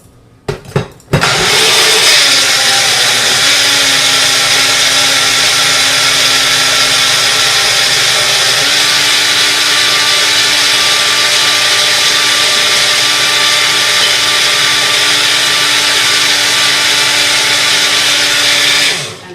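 A blender starts after a few brief clicks, then runs loudly and steadily with a constant motor whir, its pitch shifting slightly midway.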